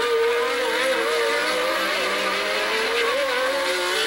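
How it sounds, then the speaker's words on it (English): Formula 1 cars race at the 1981 Monaco Grand Prix, including a turbocharged Ferrari, as a continuous high-pitched engine whine rises and falls with gear changes, loud and sustained throughout. "Pironi in the turbocharged Ferrari has now got Reutemann in front of him as a result of letting him through in the tunnel"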